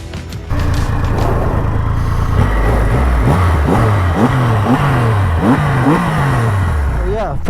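A 2500cc Triumph Rocket motorcycle engine revs repeatedly up and down, the rising-and-falling pitch sweeps sounding loud and close, with voices talking over it.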